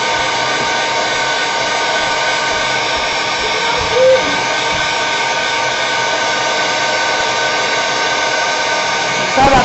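A hair dryer dries ink on a mixed media artwork, a loud, steady whirring blow that runs the whole time, with brief thumps where the airflow shifts.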